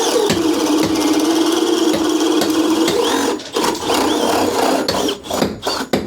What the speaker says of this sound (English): I'm just going to drill through the joist.